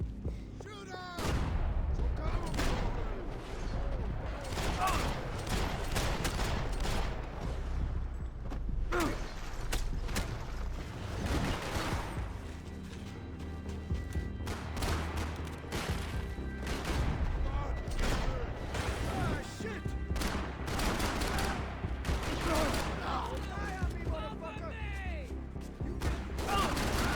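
Video game gunfire: dense, rapid bursts of shots and mechanical clanks throughout, loud and continuous, with shouted voices mixed in.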